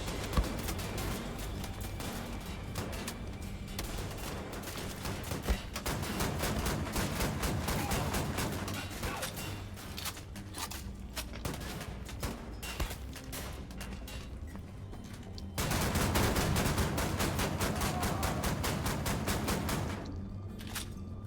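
Dense, continuous bursts of rapid gunfire crackle and boom in combat in Wolfenstein: The New Order, with a brief lull before the shooting resumes louder.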